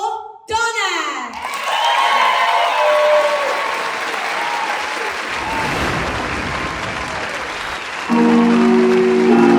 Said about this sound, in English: Round of applause for Donna.